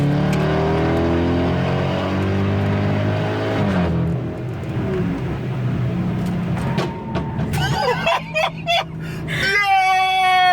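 BMW 550GT wagon under hard acceleration without downshifting, a loud rising engine drone with climbing harmonics that breaks off midway, followed by brief bursts and tones near the end.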